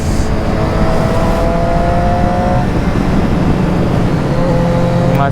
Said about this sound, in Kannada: ಅದು ಸೌಂಡ್ ಅಲ್ಲಿಂದ ಎಕೋ ಹೊಡಿತಾ ಇದೆ ನನಗೆ ಇನ್ಲೈನ್ 4ದು.